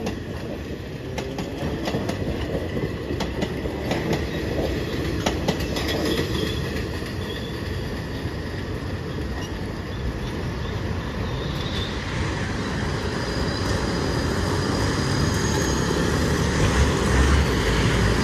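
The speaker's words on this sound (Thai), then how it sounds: "ก็เป็นรถไฟจากฉะเชิงเทรานะฮะ" A Kiha183 special train rumbles past steadily through a trackside community with loud, continuous rolling noise and clattering wheels on the rails, heard close up with no talking.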